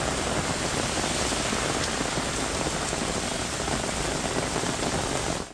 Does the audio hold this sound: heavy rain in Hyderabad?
yes